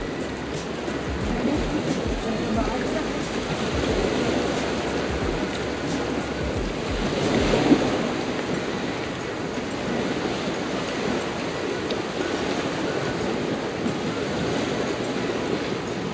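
Steady broadband rushing of rough surf washing in continuously at a beach, with a swell around the middle; no voices.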